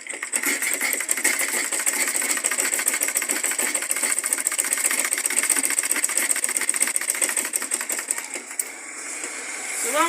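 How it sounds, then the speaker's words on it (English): Leather tote bag being stitched on a sewing machine, a steady rapid mechanical clatter running continuously at close range, easing briefly near the end. "then you sew."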